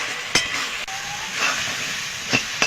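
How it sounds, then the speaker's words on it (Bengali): Spice paste of ground cumin and coriander with grated tomato fries in a pan, a loud steady hiss and sizzle with a few sharp clinks of a utensil against the pan. "আমি এটা ভালো করে কষিয়ে নেব"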